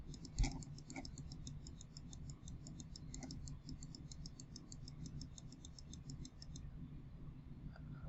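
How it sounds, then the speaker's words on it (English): Rapid, steady computer mouse clicking during a texting simulator game, a dense run of even ticks lasting most of the stretch and then stopping near the end, fairly quiet over a low background hum. "Okay, we've been clicking for about 2 minutes."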